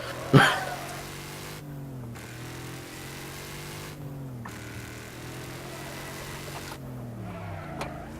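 Car engine racing in the Wreckfest video game, the revs repeatedly climbing and dropping through several gear shifts at moderate level after a sharp bang at the start.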